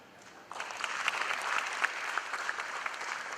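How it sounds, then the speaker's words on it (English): Clapping erupts after a brief lull as an audience at a face-to-face event gives a round of applause during a felicitation, a sustained, dense patter of many hands that holds steady to the end. "Can we have a round of applause?"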